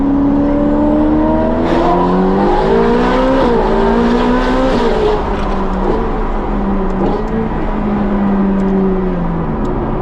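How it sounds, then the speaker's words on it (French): A 1980s Ferrari accelerates along a straight road, its engine note climbing through gears with a loud, steady rising drone heard close from inside the car. "T'es d'accord qu'on va sur une petite accélération?"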